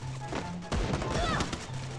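A short burst of gunfire in the video game Free Fire cracks sharply once and then trails off into a busy game soundscape, with faint voices in the background.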